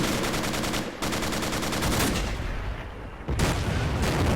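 Pz.III tank machine gun rattling off sustained bursts at infantry in the tank game Steel Fury, loud and close, with a short break near the first second and another before the final burst.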